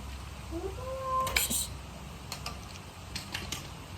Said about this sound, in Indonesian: Maaf ya, ada kucing guys.